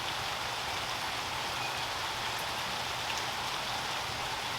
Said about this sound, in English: Just a nice, quiet, rainy day.